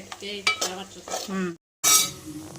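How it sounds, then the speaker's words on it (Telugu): Chicken pieces stirred and frying in oil, with scraping spoon strokes and a steady sizzle close by, a brief gap of silence, then a louder burst of sizzling. "ఆయిల్ వేసి కొంచెం వేయించుకోవాలి."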